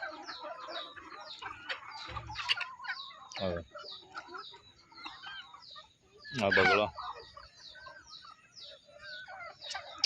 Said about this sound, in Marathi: सगळ्या वेगवेगळ्या कलरच्या कोंबड्या बघा कोंबड्यांचे कलर बघा